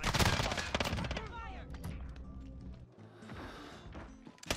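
Rapid bursts of Finn LMG light machine gun fire in Modern Warfare, loud and close, stuttering in fast strings with a brief pause before firing resumes, with some game noise mixed in.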